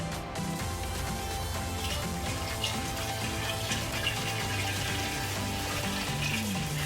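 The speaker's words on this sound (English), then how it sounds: "I have some water I'm going to add to my farm stand." Water poured into an indoor hydroponic farm stand gives a steady, continuous splashing rush, close and fairly loud, with no speech.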